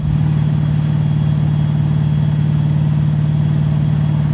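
A 525-hp LS3 V8 in a 1990s Chevy Camaro restomod idles steadily: a loud, continuous low rumble with an even throb and no revving or talk.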